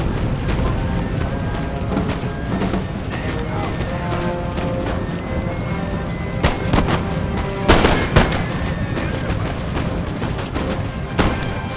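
Musket volleys in a Napoleon Total War battle on a Dresden map, a dense continuous crackle of gunfire with louder bursts near the middle, under a steady battlefield roar.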